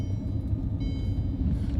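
Low engine rumble and road noise fill the cabin of a car while it drives, a steady, deep drone with no voices over it.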